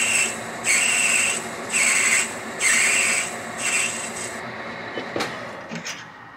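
Brass trumpet mouthpiece being filed by hand, repeated rasping strokes about once a second with a whistly metallic edge, close and clear, fading to lighter scraping at the end.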